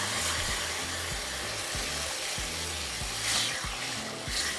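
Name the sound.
chicken broth poured into hot frying rice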